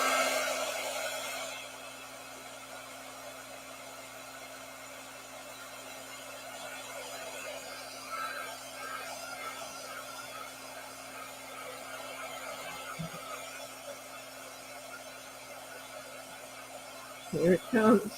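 A heat tool blows steadily on glitter and glaze over rice paper, a constant airy hum with a low mechanical drone, strongest at the start, ending with a few clatters.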